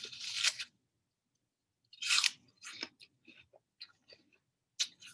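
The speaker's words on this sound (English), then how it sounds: "What did you hear when I bit my apple?" Crisp crunching bites into an apple, a loud bite followed by several smaller crunchy chews with short pauses, close up and with no talking.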